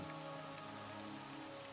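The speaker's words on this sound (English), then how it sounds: "And it's raining." Steady rainfall in the video game Morrowind, Tamriel Debuilt, a soft continuous hiss of rain on surfaces, quiet and even, with faint tonal game ambience underneath.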